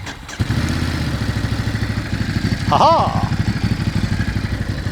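2021 Ducati Monster twin-cylinder motorcycle engine idling with a lumpy, pulsing beat, then a short rev blip near the middle, close and loud, with a brief laugh from a person.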